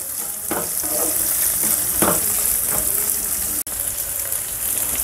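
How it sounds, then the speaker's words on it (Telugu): Sliced onions and green chillies fry in a pan over a medium-high flame, giving a loud, steady sizzle with a few brief crackles and no talking. "ఇప్పుడు మీడియం టు హై ఫ్లేమ్లో వీటన్నింటినీ దోరగా వేపుకోవాలి"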